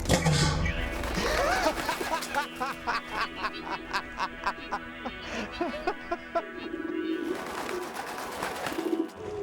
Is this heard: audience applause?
no